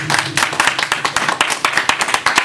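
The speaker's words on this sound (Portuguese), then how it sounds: "Dá um aplauso bem forte para o Senhor Jesus." A church congregation claps, with many hands beating in quick, fairly rhythmic bursts that sound close and lively throughout.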